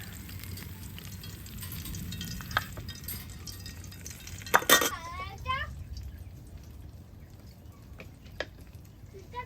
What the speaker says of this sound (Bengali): পেঁয়াজ দিলাম এলাচ আর দারচিনি